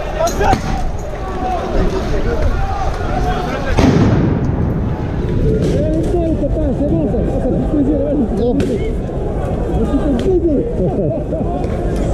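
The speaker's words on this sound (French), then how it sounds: "ça jette encore des grenades, ça tire à la flashball" Grenades and flashball launchers going off at a yellow vest street protest, a sharp burst near four seconds standing out over dense crowd noise, shouting and chatter that fill the whole scene.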